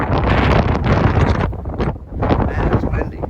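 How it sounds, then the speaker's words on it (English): Heavy wind buffets the microphone with a loud, rumbling roar, briefly dipping before gusting back in, outdoors in Guadalupe Mountains National Park. "Man, it's windy."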